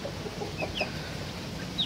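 Hens cluck in short, scattered bursts at moderate distance, with a few higher squawks over a steady outdoor background.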